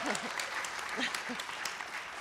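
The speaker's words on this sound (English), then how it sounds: "And yes, much applause." Audience applause at a live community event, a continuous even clatter of clapping with voices talking over it.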